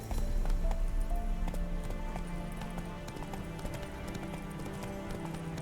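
Rhythmic hoofbeats of a galloping horse in The Witcher 3, a fast repeating clip-clop with a steady beat over a low rumble, close and fairly loud throughout.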